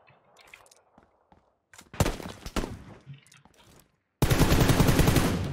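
Automatic gunfire sprayed through a 6x scope in PUBG Lite, a sustained loud burst of rapid shots after scattered earlier single cracks and thuds.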